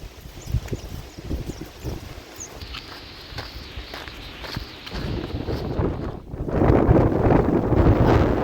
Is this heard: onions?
no